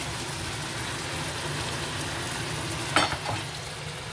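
Saltfish frying in a pan in Jamaican home cooking, a constant close sizzle with a brief clatter as something hits the pan partway through.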